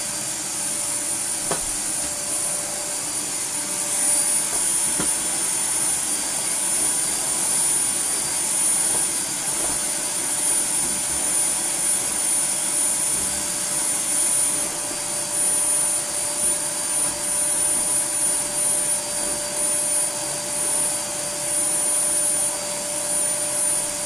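A Hitachi Stowaway CV-7405 vacuum cleaner, refurbished and fitted with a HEPA flow bag, runs steadily with a loud, close motor roar and a piercing high whine throughout, no talking.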